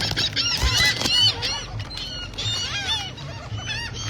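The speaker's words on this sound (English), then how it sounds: "There's so many seagulls." A flock of seagulls on Clearwater Beach calls repeatedly, with overlapping squawks and cries from many birds, some near and some farther off, and occasional low voices beneath.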